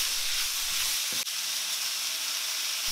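Onion and carrot slices stir-fried until soft and lightly caramelised, giving a loud, dense, continuous hiss of sizzling oil, with a single sharp tap of the spatula partway through and a few low rumbles of movement.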